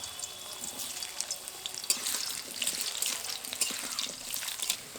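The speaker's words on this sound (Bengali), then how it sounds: "আলুগুলো লাল করে ভেজে নেব।" Potatoes frying in mustard oil in a wok, a steady close hiss of sizzling oil with frequent small crackles and pops running throughout, with no voices.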